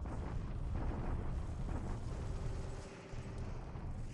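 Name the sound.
enemy bombardment explosions in the War in the Pacific video game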